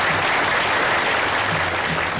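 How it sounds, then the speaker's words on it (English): Steady audience applause for Martha Davis and her spouse, a dense wash of clapping at a steady level throughout, with faint voices underneath. "Nice round of applause for Martha Davis and her spouse."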